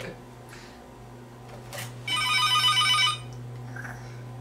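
A telephone rings in one sustained electronic trill lasting about a second, fairly loud against a quiet indoor background with a steady low hum.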